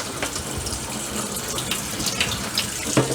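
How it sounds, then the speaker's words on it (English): Water runs continuously from a tap into a kitchen sink while pickles are being made, a steady close splashing gush with small clatters near the end. "So now I'm going to turn my water on here."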